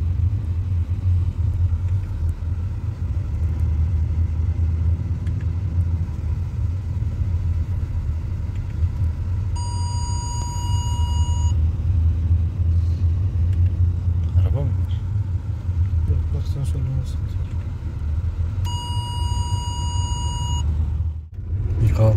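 Mercedes-Benz W221 S350 4MATIC, its transmission just repaired, runs through a launch and gearshift test with a steady, loud engine rumble throughout, two electronic warning chimes sounding twice, and people talking over it.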